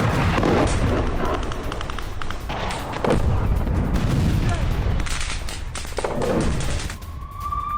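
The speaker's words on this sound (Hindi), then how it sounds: "जेनिन कैंप में धमाकों की जोरदार आवाज सुनी गई।" Explosions and gunfire in the Jenin refugee camp in the West Bank, a dense, continuous barrage of cracks and booms that fills the whole stretch at high volume, with a tone like a siren rising near the end.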